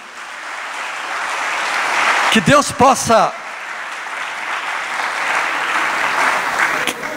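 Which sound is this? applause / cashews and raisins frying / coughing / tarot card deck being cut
applause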